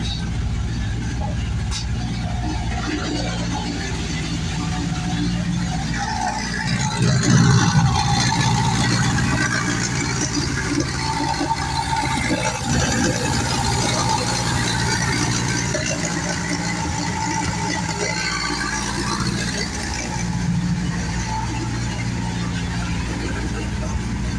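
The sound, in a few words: car engine running without exhaust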